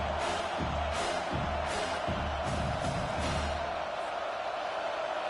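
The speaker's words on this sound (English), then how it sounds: "Decibels rising as the crowd gets behind this defense on third down." Football stadium crowd cheering for the home defense on third down, a loud, sustained roar with rhythmic swells and pulsing chants throughout.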